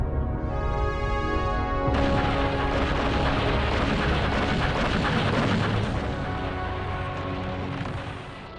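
Massive artillery barrage on French bunkers at Dien Bien Phu, 1954: continuous roaring, crashing explosions layered into a dense wall of sound, opening with a sustained tone before the heavy blasts take over.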